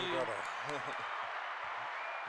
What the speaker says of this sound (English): We like to send everyone out on a clap.